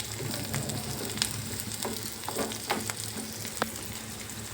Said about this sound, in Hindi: दाल में तड़का लगाते हैं देसी घी का चटपटा मस्त वाला।